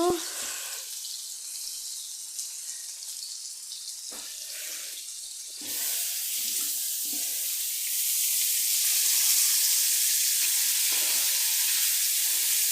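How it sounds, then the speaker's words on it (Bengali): Water poured into a pan where hilsa fish is frying sets off a bright hiss and sizzle. The sound swells in two clear steps and then holds loud and steady. "জল দিতে হবে, আর একটুখানি দিব।"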